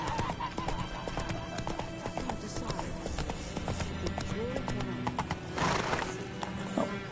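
Hoofbeats of a horse ridden in The Witcher 3: Wild Hunt video game: a steady, fairly loud clip-clop gait running throughout, with a neigh or whinny breaking in near the end over game ambience.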